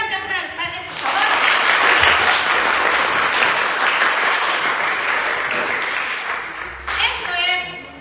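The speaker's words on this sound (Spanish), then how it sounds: "un aplauso para los padres, por favor." Loud, sustained applause from a church congregation honoring fathers at a Father's Day service, a dense wash of clapping lasting several seconds before tapering, with a voice speaking briefly at the start and end.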